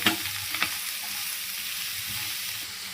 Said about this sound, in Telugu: క్యారెట్ వేసుకున్న తర్వాత ఇలా బాగా మిక్స్ చేసుకొని